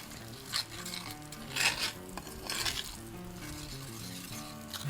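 A spoon stirs a sauce of brown sugar in a pot for Nashville hot pulled chicken, giving quiet, close scraping strokes that come in a few uneven bursts over soft background hiss.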